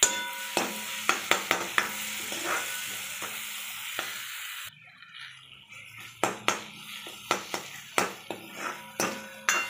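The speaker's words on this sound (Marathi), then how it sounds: "टमॅटो चांगले शिजवून घ्यायचे।" Tomatoes cooking down in a pan for pav bhaji give a soft bubbling sizzle close by, broken by repeated sharp clinks and taps of a spoon against the pan, with a quieter stretch midway and no talking.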